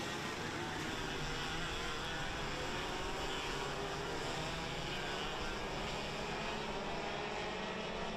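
Tag 125 heavy racing karts roll around in formation before the start of a 15-lap final, a continuous droning engine roar that carries without a break through the whole stretch.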